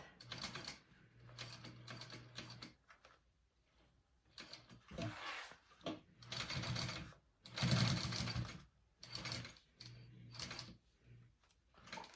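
A sewing machine runs a 1/4 inch seam along a strap for a sling bag, stitching in short whirring bursts separated by brief quiet pauses, close and fairly soft.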